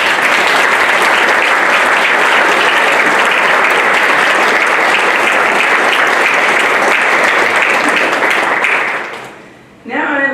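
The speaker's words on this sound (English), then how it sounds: "Please give a round of applause to everyone." Sustained audience applause at an honors program graduation ceremony, loud and dense throughout, fading out near the end as a voice begins.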